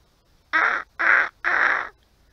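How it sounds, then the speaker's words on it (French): A crow calling with three harsh, drawn-out caws at an even pace, loud and close, with a monkey-like quality and nothing else around them. "quand vous entendez un bruit de singe, c'est pas un singe, hein? C'est un corbeau."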